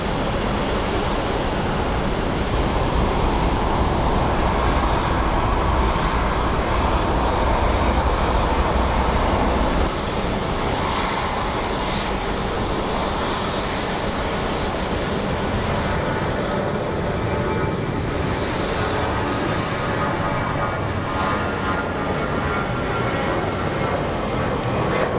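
An airliner departing on a Denver flight, a loud sustained jet roar with heavy low rumble that eases a little after the first ten seconds, no voices over it.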